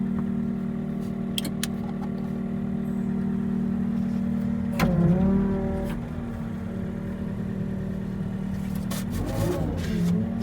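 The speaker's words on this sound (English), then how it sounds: "Fast revving engine." Kioti SL750 skid steer engine running steadily nearby, with a couple of brief rev-ups that swell and fade over a constant idle hum, no talking.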